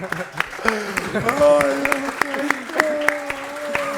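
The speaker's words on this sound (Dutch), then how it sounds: "Applaus." Applause breaks out among a small group in the studio of a Dutch football-humour chat show about MVV, with voices talking and laughing over the clapping throughout at moderate level.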